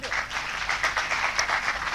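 Audience applause during a TEDx talk in Chandigarh: brief, dense clapping from a seated crowd, steady in level with individual claps standing out.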